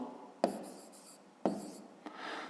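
A math expression written by hand on paper, with three distinct pen or chalk strokes, each a sharp tap followed by a short scratchy stroke, close and quiet with no talk.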